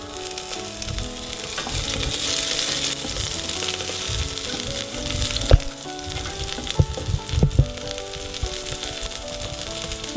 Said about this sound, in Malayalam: നമുക്ക് 1 ടേബിൾ സ്പൂൺ ചെറിയ ഉള്ളി അരിഞ്ഞ് ഒന്ന് ചെറുതായിട്ടൊന്ന് മൂപ്പിച്ചെടുക്കണം.